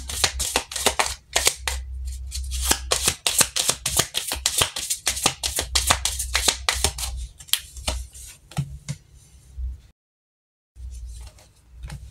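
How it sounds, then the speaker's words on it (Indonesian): Tarot cards being shuffled by hand, a dense run of crisp riffling and slapping bursts with a low steady hum underneath, a brief silent gap near the end, then more shuffling. "Lalu kita shuffle kartu lain untuk konfirmasinya."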